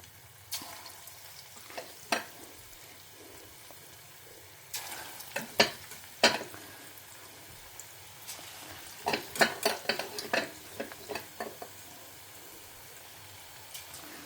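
Bottle gourd pakoda deep frying in a pan of oil at home, a soft steady bubbling broken by bursts of sharper crackle as pieces are stirred and turned, with no talking.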